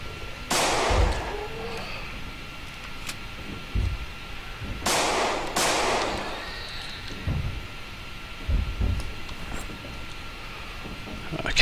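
Pistol gunshots in Project Zomboid, with three sharp, loud cracks standing out against a quiet background, one early and two close together a few seconds later, followed by dull thuds.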